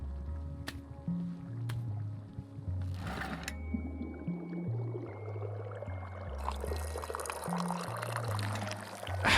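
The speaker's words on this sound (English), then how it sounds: "Let's pour some Wreden tea." Tea poured in the video game Wanderstop, a steady liquid stream over soft game music, running close and continuous through the moment without any talk.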